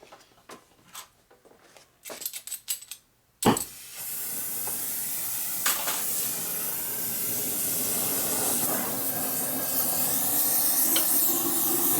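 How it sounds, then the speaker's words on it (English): An oxy-acetylene torch fitted with a multi-hole rosebud tip roars with a broad, steady hiss while heating a Buell Blast 650cc single-cylinder engine case, preceded by a few brief clatters and a sharp pop as the flame lights. "I put a rosebud tip on there instead of a welding tip like I had it. This puts out a bigger flame."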